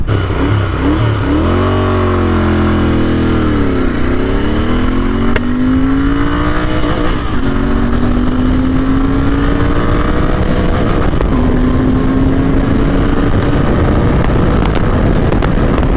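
A Royal Enfield GT650 motorcycle accelerating hard through the gears at speed, its loud engine drone rising in pitch, dipping briefly at each shift, then climbing again, with heavy wind rush throughout and no talking.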